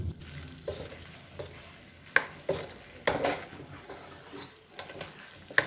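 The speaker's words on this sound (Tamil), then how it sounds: "மக்ரோனியை சேர்த்துக்கிறேன்." Boiled macaroni being stirred in a pan for a macaroni pasta dish, with a series of irregular spoon scrapes and soft knocks against the pan over a light sizzle, several sharper clacks standing out.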